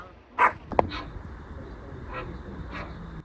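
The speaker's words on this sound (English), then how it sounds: "old people with yapping dogs" A small dog lets out a few sharp, high yaps, then fainter yips follow at intervals; close by, with no voices.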